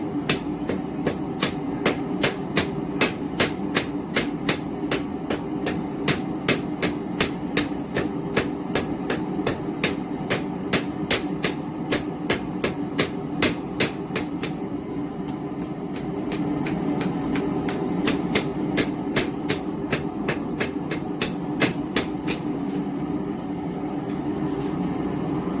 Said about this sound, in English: I'm going to flatten this out, kind of draw this round stock out.